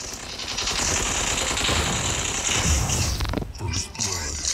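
Rapid automatic weapon fire from mechs in the robot combat game Mech Arena, a dense continuous barrage under game effects that breaks off near the end into scattered bursts.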